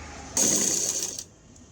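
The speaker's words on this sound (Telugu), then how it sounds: "ఈ ఒరిజినల్ సైడ్ ఇలా పెట్టుకొని నడుము పట్టి అలా పెట్టుకొని ఒక స్టిచ్చింగ్ అయితే వేస్తున్నాను" A sewing machine runs one short, fast burst of stitching on the waist of a lined blouse, whirring steadily for about a second close by and then stopping, with no voices.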